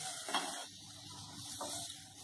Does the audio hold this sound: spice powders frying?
yes